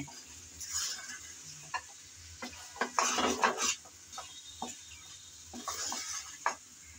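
A metal spoon scrapes and knocks against a pan while taro stolons are stirred with kasundi mustard sauce, giving scattered clinks and a brief busier burst of scraping over a faint low sizzle.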